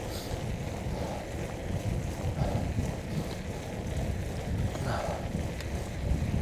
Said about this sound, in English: A strong wind blowing in my face.